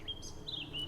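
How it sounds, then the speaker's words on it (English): Birdsong in an outdoor setting in the video game Witcher 3, with a few thin, high chirps and short whistled phrases carried over a soft, steady ambient bed. No voices are heard. "It's lovely out here. The birds singing"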